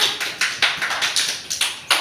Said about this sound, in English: very good clap